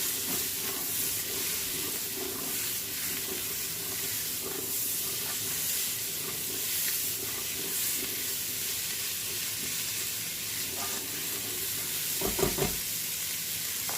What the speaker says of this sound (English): So that's 2 cups of onions, 2 cups of carrots. I'm going to let those saute.